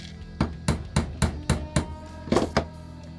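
A hammer taps pins into a knife handle during knifemaking, about ten light, evenly spaced metallic taps close by, with a short pause before the last few, and no talking.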